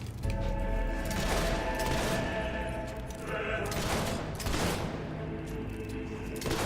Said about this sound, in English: That's why I'm going out of my way to use the gun.